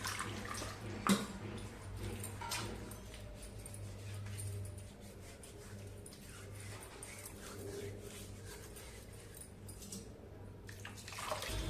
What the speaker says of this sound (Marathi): आपण पाणी घालूया आणि चांगला एकदा खलबत्ता धुवून काढूया